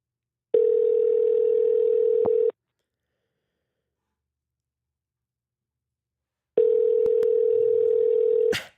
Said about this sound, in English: All right, it's ringing